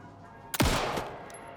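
A single gunshot fired at a bear in the video game Alan Wake II, one sharp loud blast with a long rolling tail.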